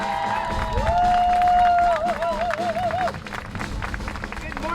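A large rally crowd at a farmers' climate action event applauds and cheers in a dense, sustained wash of clapping, with a sung or whooped tone rising above it before the noise eases.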